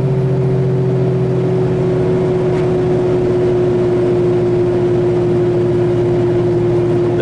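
An engine drones steadily at high revs while cruising in sixth gear, a loud constant hum with a fixed pitch and no voices.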